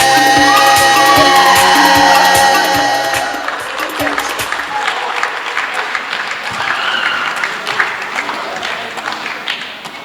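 Wedding guests applauding after performances; music fades out in the first seconds and a sustained crowd of clapping hands carries on to the end, fairly loud and even.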